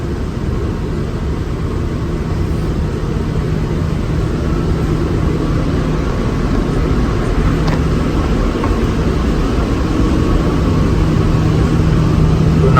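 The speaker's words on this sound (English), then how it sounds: "This is the LDCL system and this is LDCL pump." An LDCL cooling water pump runs in a ship's engine room beside a MAN ME main engine, heard as a loud, constant mechanical drone with a low hum that stays even throughout.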